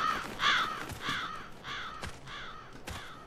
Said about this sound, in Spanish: un cuervo